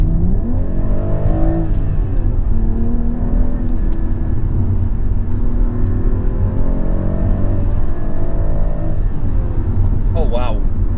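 A BMW M340i G20 pulls hard in third gear, its engine note rising steadily under load. The engine drones loud and close throughout, with a brief higher whine near the end.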